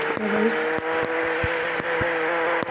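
A car engine in a racing video game, droning steadily with repeated short clicks and shifts in pitch, loud and continuous with no one talking.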